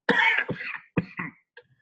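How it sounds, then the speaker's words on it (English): A sharp cough followed by a few smaller coughs and throat-clearing sounds, close to the mic, with short pauses between bursts. "I'm recovering from a cold, so there may be an occasional cough"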